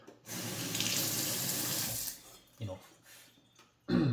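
Water runs from a tap into a sink in a steady, close, loud stream for about two seconds, then cuts off, followed by a few short splashes and a clunk, with no talking.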